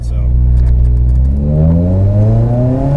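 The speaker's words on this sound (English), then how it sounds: "Very smooth takeoff." A K-series car fitted with a Competition Clutch 8090-ST kit and flywheel pulls away smoothly, its engine note climbing steadily as it accelerates, loud and close, with a single brief spoken word.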